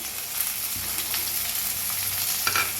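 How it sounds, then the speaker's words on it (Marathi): Chopped onion and tomato frying in a pan with curry leaves and green chilli for a ridge gourd dish, a steady close sizzle broken by a few scraping stirs of a spoon. "कांदा टमाटो छान भाजले"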